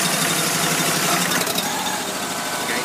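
A fire engine's pump runs at the pump panel, a loud, steady, rumbling engine drone held close throughout with a slight change in tone partway.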